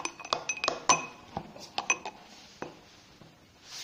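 Slime made with dish soap being stirred in a container, giving a run of quick, bright clinks and small clacks of the utensil against the sides, fairly close and sparse, with a pause and a soft swell near the end.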